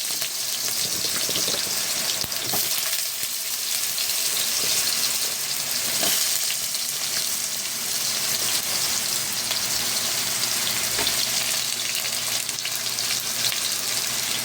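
Vegetables being half-cooked in hot cooking oil for a Filipino dish, a steady loud sizzle and crackle lasting throughout with faint stirring, no talking.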